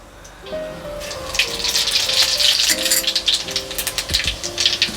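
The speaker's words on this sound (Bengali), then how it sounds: "ফোড়ন দিয়ে দিলাম।" Panch phoron whole spices and dried red chilli hit hot oil for a Bengali tempering, giving a sharp crackling sizzle that swells and keeps popping close by, with a faint voice at the start.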